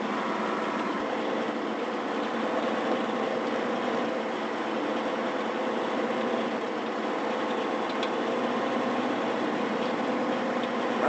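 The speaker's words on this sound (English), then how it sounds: "the lifter goes through and lifts just the sugar beets and separates everything else" A sugar beet harvester's lifter runs through a Minnesota field with a steady, dense mechanical roar and engine drone that holds constant throughout, with no talking.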